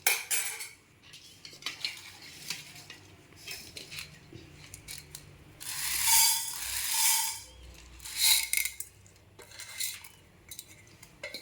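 Urad dal being dry-roasted in a pan on low heat for idli podi, heard as repeated close scraping and rattling of a spatula against metal, with irregular louder strokes over a quiet background.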